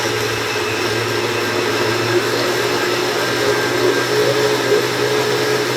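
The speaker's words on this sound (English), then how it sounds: "So I'm going to blend this up till it gets sort of a fine consistency" Blender puréeing shrimp bisque with rice, a loud steady motor whir with a constant hum, running continuously and alone without talk.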